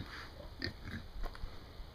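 Young female pigs on a farm grunt and oink in short, soft bursts close by, with a faint high whine in the background.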